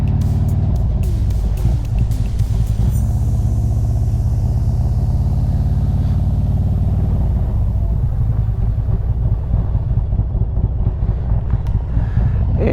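Steady traffic near a film location in a rural village, with a continuous loud rumble of car engines passing close by and a bright hiss early on that fades, with no talk.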